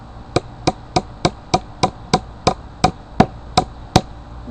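Hammer tapping a nail into a wooden board to anchor string for tomato supports, about a dozen sharp, evenly spaced taps close up over a faint steady background hum.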